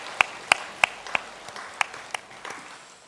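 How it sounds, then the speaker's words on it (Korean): Sparse, separate hand claps ring out in a church service, about eight sharp claps spaced unevenly over a few seconds, fairly close with a roomy echo. "경고의 박수 들려드립니다."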